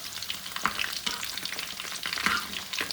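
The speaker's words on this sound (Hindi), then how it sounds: "इसको हम लोग करेंगे फ्राई।" Pieces of Dhaka chicken fry in oil with a dense, crackling sizzle, punctuated by irregular sharper pops and spatters throughout, close and fairly loud.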